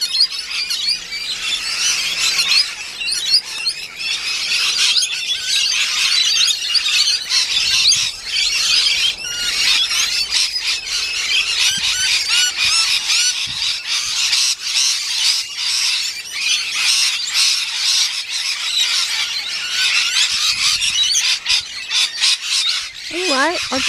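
A flock of lorikeets and parrots feeding in apple trees keeps up a continuous, raucous chorus of shrill squawks and screeches from nearby, dense and unbroken throughout.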